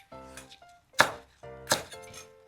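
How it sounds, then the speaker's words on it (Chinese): Green peppers being chopped with a knife on a cutting board in a home kitchen, two sharp distinct chops separated by quieter tonal background hum, no talking. "我要切青椒，"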